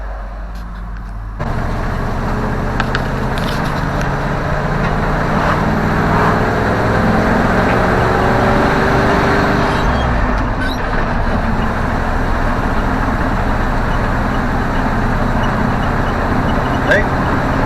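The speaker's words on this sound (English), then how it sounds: "Hey, it's a good running old truck." A 1979 Ford F-350 truck drives down the road, its engine droning loud and steady from the cab along with broad road and wind noise, while a voice speaks over it.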